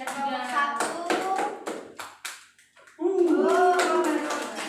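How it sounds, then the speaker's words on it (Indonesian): A class of students claps for the third-place group in a classroom, several seconds of quick, close hand claps mixed with children's voices talking over them, a short lull, then chatter resuming. "Tepuk tangan."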